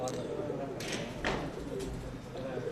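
A seven-year-old fancy pigeon of a Rawalpindi show breed coos steadily and close up against a constant background hum, with a few faint knocks.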